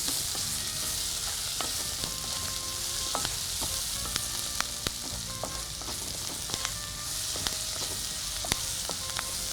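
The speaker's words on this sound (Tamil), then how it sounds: "வெங்காயம் வதங்கும் போது நல்ல அந்த பூண்டும் சேர்ந்து வதங்கி ஒரு நல்ல வாசனை கொடுக்கும்" Onions and garlic sauté in oil over medium heat, giving a steady, dense sizzle with small crackles and light ticks of stirring throughout, no voices.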